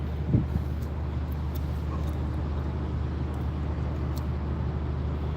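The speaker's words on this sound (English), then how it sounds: "Bit of traffic coming through." Road traffic streams past below a rooftop in Giza on a Friday afternoon, a constant low rumble of cars and engines with one brief louder thump near the start and faint distant sounds on top.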